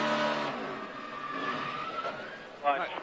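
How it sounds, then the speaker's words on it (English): A NASCAR race car with a cylinder down drones at the 2012 STP 400, its engine note moderately loud and steady with a rough edge, then rising briefly near the end, heard under a commentator's talk. "You can hear the old engine. She got a cylinder down."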